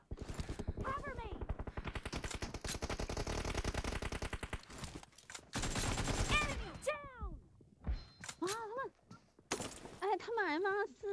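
An M416 assault rifle fires in PUBG Mobile, first as a long rapid burst and then as shorter bursts and single cracks. The shots are loud and close, mixed with game effects, and people talk excitedly between them.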